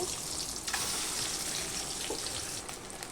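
Eggs fry in hot mustard oil seasoned with salt, turmeric and Kashmiri chili powder, a steady bright sizzle and crackle that stays close and continuous with no voices.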